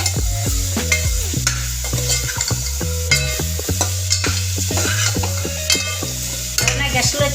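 Vegetables such as carrot, potato and tomato fry in a pan for vegetable biryani, with a steady close sizzle under repeated scraping stirs and clinks of the spoon against the pan throughout.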